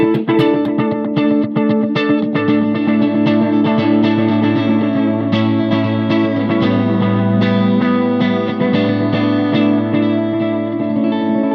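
Guitar run through a delay pedal set to emulate a Roland Space Echo RE-201 tape echo, a dense sustained wash of repeating notes and warm trailing echoes, loud and steady throughout with no talking.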